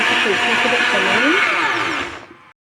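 An electric kitchen blender whirs loudly and steadily while pureeing boiled taro with greens, its motor pitch shifting slightly before it cuts off abruptly.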